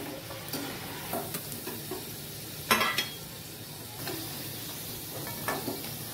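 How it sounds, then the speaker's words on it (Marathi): French fries frying in oil until golden brown and crisp, a steady soft sizzle with occasional louder bursts and stirring scrapes, close and alone with no talking. "मस्त असे खरपूस तळले गेलेत फ्रेंच फ्राईज।"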